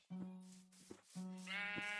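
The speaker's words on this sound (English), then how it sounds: "if I just randomly start shearing sheep in here" Sheep in Minecraft bleat as they are sheared: two clear, close, drawn-out bleats one after the other, with a soft clicking sound between them.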